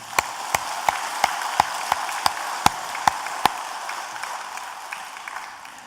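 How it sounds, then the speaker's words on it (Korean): A church congregation claps in a steady, even rhythm, about a dozen crisp beats over a soft room hiss, before the clapping fades out. "우리 하나님께 영광의 박수 드리겠습니다."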